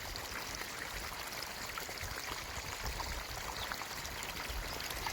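On a pomegranate farm, water gushes steadily from the open flush valve at the end of a drip irrigation line, carrying dirt out in a continuous, faint, even splashing stream with no speech.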